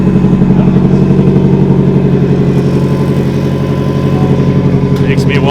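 A Nissan 240SX S13 coupe drift car idles with a leaking exhaust downpipe, its engine close and loud with a steady low, uneven throb throughout, and faint voices just under the engine noise.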